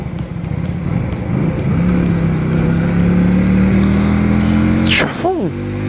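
A Suzuki Intruder 125 motorcycle engine is held at full throttle on the road, a steady loud drone whose pitch climbs slowly, then dips and wavers near the end, under wind noise.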